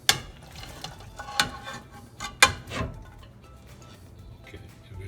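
Tomatoes and green chilies go into a pan with eggplant and beef, with a few sharp clatters and scraping stirs near and loud at first, then a quieter sizzle-like rustle.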